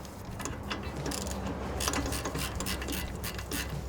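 Ratchet wrench working a bolt on an Alcon big brake kit during a car brake installation, a rapid quiet clicking of the pawl in quick bursts against faint workshop background.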